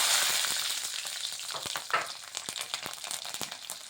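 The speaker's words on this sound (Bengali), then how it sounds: "কাঁচা লঙ্কাটা আর কালো জিরেটা ভালোভাবে ভেজে নিচ্ছি।" Nigella seeds and green chillies frying in hot oil, a steady close crackling sizzle with sharp scattered pops and spatters throughout, no voices.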